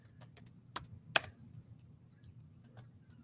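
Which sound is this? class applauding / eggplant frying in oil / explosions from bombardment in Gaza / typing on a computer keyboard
typing on a computer keyboard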